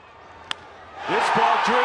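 A baseball stadium crowd of more than 32,000 on their feet swells into a loud, sustained roar after a brief sharp crack, with a voice calling out over the noise.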